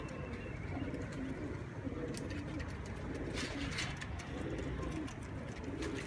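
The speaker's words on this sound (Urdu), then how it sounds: "یہ ہیں کبوتر سارے جو آپ کو دکھائے جا رہے ہیں" Golden pigeons coo softly and repeatedly in a cage, their low rounded calls overlapping in a faint, steady chorus with a little background noise.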